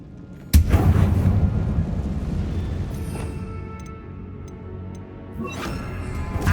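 In Hogwarts Legacy, the Confringo blasting spell goes off inside an insect-infested tomb. A sudden loud boom is followed by a rolling rumble, then lighter crackles and a second burst near the end.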